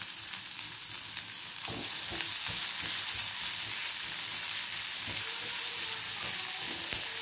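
Chopped tomato and capsicum fry in a hot pan with a small pinch of chili flakes, a Bengali lentil-soup base. A steady close sizzle hisses throughout, broken by a few soft clicks of stirring.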